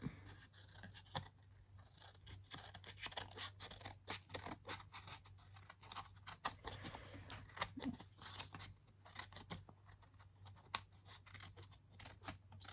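Scissors snip and scrape through paper at a crafting table, giving quiet, irregular cutting strokes over a low steady hum.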